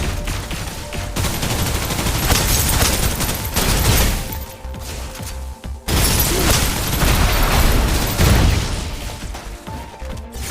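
Suppressive gunfire in the video game Snowbreak: Containment Zone: dense, sustained automatic bursts, loud and close, with two brief lulls midway before the shooting resumes at full intensity.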